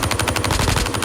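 Rapid automatic gunfire in the Call of Duty Mobile video game, a loud dense burst of evenly spaced shots filling the whole moment with no talking over it.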